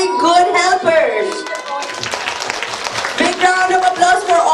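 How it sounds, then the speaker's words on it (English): A group of children claps in a round of applause at a storytelling workshop, the dense patter swelling mid-clip between stretches of adult talk and voices. "Now I want all of you to give yourselves a big round of applause"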